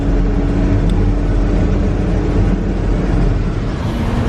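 Steady road traffic noise, a continuous low engine and tyre rumble heard from inside a moving car, loud and unbroken with no distinct events.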